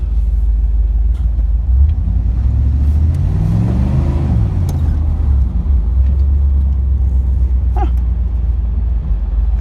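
A 1987 Chevrolet Camaro IROC engine roars loudly while driving, a deep steady rumble that swells into a rising rev midway before settling back, heard up close from inside the car.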